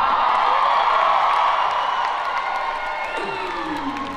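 A concert crowd at a big US venue on a 2019 support tour cheers and whoops loudly in a sustained roar that slowly fades, with scattered shouts rising above it.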